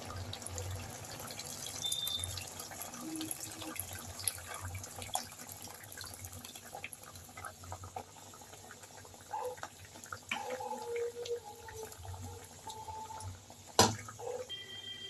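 Strained tamarind water poured into a pot of mixed-vegetable sambar in a home kitchen, a steady liquid trickle and splash running through the clip with a few brief clinks, close and moderately loud, no talking.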